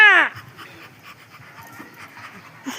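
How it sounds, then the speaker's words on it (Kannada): A dog pants nearby in quick, soft, rhythmic breaths, following a brief vocal sound at the very start. "ನಾಯಿ"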